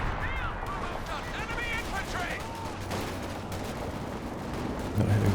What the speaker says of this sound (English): That is zeroing artillery.